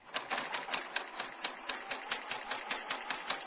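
A sewing machine stitching around a fabric heart-shaped needlecase, its rapid even clatter of needle strokes running close and steady for a few seconds with no talking.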